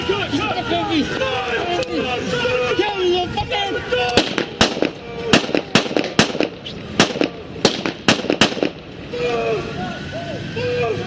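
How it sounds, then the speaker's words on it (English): Gunshots fired during a police shooting outside a hotel, a rapid volley of more than a dozen sharp, loud cracks at an uneven rhythm following shouting voices, with agitated talk resuming afterward. "Shots fired."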